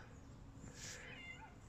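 Norwegian Forest Cat meowing softly on a stroll outdoors, a faint short meow or two over steady background noise, with no talk during the sound.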